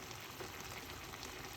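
Salmon fries in a pan with a faint, even hiss and soft crackle, steady and unbroken over a short stretch.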